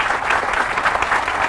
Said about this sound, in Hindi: इस बात पे जोरदार तालियां होनी चाहिए हमारे